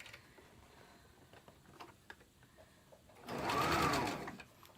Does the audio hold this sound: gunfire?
no